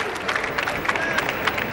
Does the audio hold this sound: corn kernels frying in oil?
no